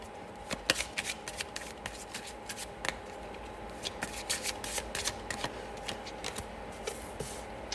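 Tarot cards being shuffled by hand, quiet repeated riffling and soft slaps in an uneven rhythm, close up with no voices.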